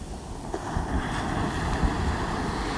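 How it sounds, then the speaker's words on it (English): Ocean waves on a foggy beach in North Naples, Florida, make a steady broadband wash with soft surges, mixed with wind buffeting the microphone, continuous and moderately loud. "Got some wave action today."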